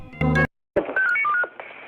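Telephone dialing tones in an animated cartoon, as a character calls the police about a burglar: a quick run of short, clear beeps of changing pitch after a brief buzzy tone and a gap, loud and alone.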